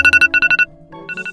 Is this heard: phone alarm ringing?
yes